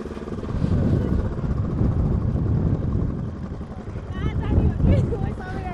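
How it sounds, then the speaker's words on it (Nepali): Strong wind blows outdoors and buffets the microphone with heavy, rumbling gusts, while people talk and exclaim loudly over it. "हामीलाई त हावाले ढकालिरहेछ त"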